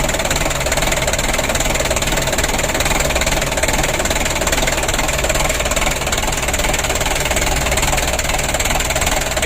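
Mitsubishi 4D34 diesel engine, newly rebuilt, running at idle: a loud, steady, close-up clatter with a rapid even knock and constant mechanical vibration, with no change in pace.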